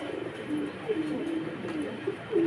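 Pigeons cooing nearby, soft repeated low warbling calls overlapping each other in a steady murmur, at a pigeon sale.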